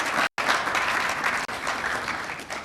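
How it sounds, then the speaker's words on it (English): A crowd at a Ghanaian women's football partnership event claps in sustained applause, loud and steady, with one brief dropout near the start. "Can we clap for YEA, please?"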